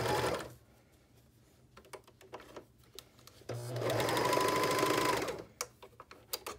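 A serger sewing machine stitches a knit neckband seam in two steady whirring bursts, one at the start and a longer one midway, with quiet handling and small clicks between them.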